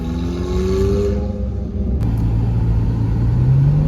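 A McLaren 765LT pulls away with its engine revving, a loud, steady roar with rising pitch sweeps as it accelerates through the gears, close and continuous throughout.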